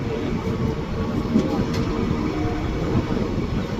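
A train runs along a narrow track, a continuous broadband rolling rumble held at steady loudness throughout, fairly close, with no talking.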